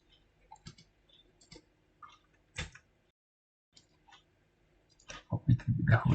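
Sharp mouse clicks on a computer running SPSS 27, a few sparse clicks separated by quiet gaps, with faint background noise near the end.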